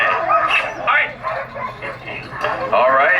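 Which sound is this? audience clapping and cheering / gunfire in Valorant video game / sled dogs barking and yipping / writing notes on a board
sled dogs barking and yipping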